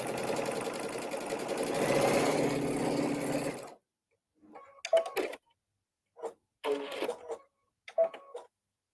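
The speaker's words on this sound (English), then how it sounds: "I'm going to take it to the sewing machine and I'm going to sew a 1/4 inch on both sides." A sewing machine runs a steady quarter-inch seam along a pillow edge for about four seconds, a close, even whirring buzz, then stops; a few short, quieter bursts of handling or brief stitching follow.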